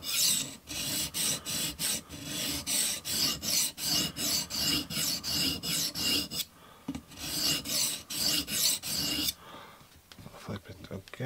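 A TRC XS Splinter fixed blade being sharpened on a TSPROF Blitz Pro guided system: rhythmic, close rasping strokes of the stone in quick even passes, a brief pause, another run of strokes, then softer scraping at the end.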